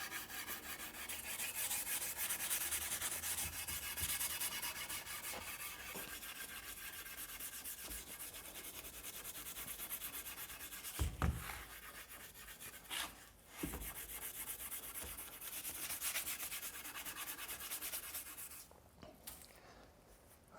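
Steel wool scrubbing the head of a vintage axe during restoration: a steady, faint, close rubbing rasp that goes on for a long stretch, with a few brief knocks and pauses near the end.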